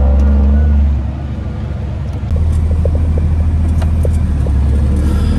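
A truck engine roars under full throttle, a loud, deep steady rumble that dips briefly and then surges back up and holds, close by with no talk.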